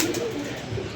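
Pigeons give a brief, soft coo at close range over faint background noise.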